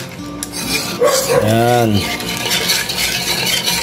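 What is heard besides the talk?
stirring pudding mixture in a pot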